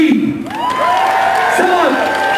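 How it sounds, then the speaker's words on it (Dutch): An outdoor festival crowd cheers and whoops, with drawn-out shouted voices rising over a bed of clapping that swells after a brief dip. "Dus willen wij graag een applaus voor hij wat nummer voor met ons spelen."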